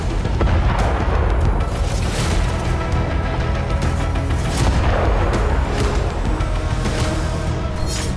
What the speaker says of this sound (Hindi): तभी एक धमाका होता है और वाहन तबाह हो जाता है।